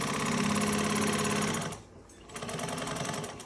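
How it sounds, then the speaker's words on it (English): A Juki 1541s sewing machine with a leather needle stitches a pocket onto a bag lining, running in a fast, steady mechanical chatter, briefly pausing midway before resuming at close range. "So I'm just sewing this on."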